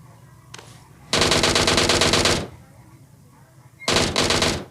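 Automatic gunfire in a shooter video game, two loud rapid bursts of about a second each, separated by a quieter pause, with a faint earlier shot and low background sound.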